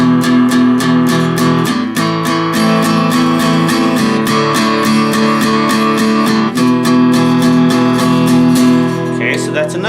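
An acoustic guitar is down-picked in a fast double-time strum on the low strings, a loud steady stream of even, rhythmic strokes running throughout.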